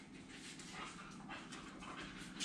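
A dog pants quickly and steadily at close range, breath rhythm continuous and fairly quiet, with faint whimpering mixed in.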